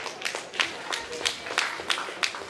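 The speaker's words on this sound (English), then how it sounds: "Another round of applause for Mr." An audience at a 30th anniversary community event claps, a sparse run of individual handclaps at a steady rhythm, fairly close and moderate in volume, with no voices over it.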